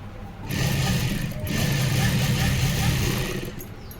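A sewing machine whirs steadily at close range as it stitches piping onto a blouse, running in two sustained bursts with a brief pause between them, while someone talks over it.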